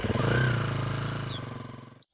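Cartoon crow speeding through the jungle on a motorbike: a buzzing engine drone that fades away, with chirpy bird-like squeaks sliding over it and a short tail of quiet.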